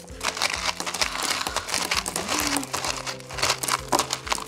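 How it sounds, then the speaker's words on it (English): LECA clay pebbles being pulled and scraped out of a root-bound Calathea Orbifolia pot, a dense run of rattling, crunching clicks and rustles up close with no talk. "So I am going to try to take that leca out."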